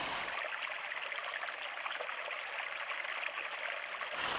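Honey Creek, a Guadalupe River tributary running low during a drought, trickles and burbles in a steady, close stream of water that continues unbroken.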